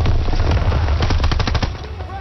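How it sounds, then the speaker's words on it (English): A Tommy gun fires in rapid bursts of closely spaced shots in the Call of Duty WW2 video game on PlayStation 4, loud and close, with some game sound underneath. "But we do have a Tommy gun now."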